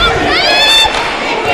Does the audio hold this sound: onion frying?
no